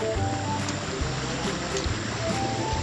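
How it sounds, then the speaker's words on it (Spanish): River water runs steadily with a broad, continuous rushing wash, close and fairly loud, with faint voices in the background. "Llegamos al río."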